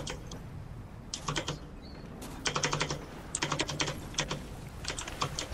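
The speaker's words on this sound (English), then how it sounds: "Panic Legion's keyboard is so loud." A loud computer keyboard clatters during a Fortnite session, with bursts of rapid key presses separated by short pauses, close and crisp with no talking.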